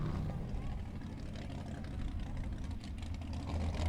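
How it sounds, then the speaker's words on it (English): Formula offroad buggy with an RV engine revving at an Icelandic off-road event in Egilsstadir, a deep, rumbling engine roar held steadily at moderate distance under commentary-like speech. "And there he goes with the RV engine."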